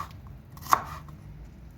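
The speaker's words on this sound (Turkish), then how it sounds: "Yeşilliklerimizi sizinle beraber doğrayacağım" A knife chopping fresh greens on a board for kısır, two sharp, distinct chops spaced about a second apart, close and clear with no talk.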